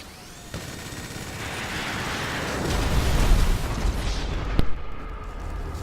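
Bomb explosions from a bombing run in a video game roll together into a continuous rumbling barrage that swells louder midway, with a sharp blast near the end and no voices.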